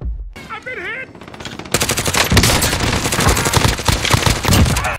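Sustained automatic fire from a GRAU assault rifle in the Warzone video game, a dense rapid rattle of loud shots filling most of the stretch after a brief quieter opening.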